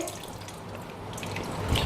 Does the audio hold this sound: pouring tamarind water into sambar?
yes